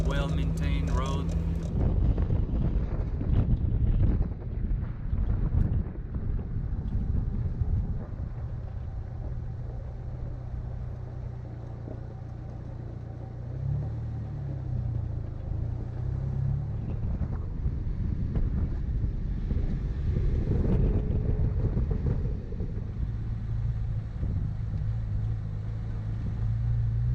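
A 4x4 vehicle rolls steadily along a well-maintained forest road on Section 16 in New Mexico, its engine rumbling low and continuous with wind buffeting the microphone, while a voice speaks at times over the drive.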